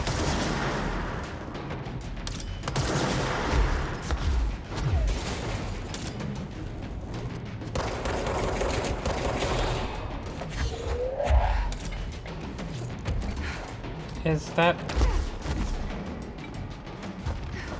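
Repeated pistol shots from a handgun fitted with the Eternal Fire mod in the Control video game, sharp bursts scattered through busy in-game combat noise and mechanical clatter, fairly loud and close.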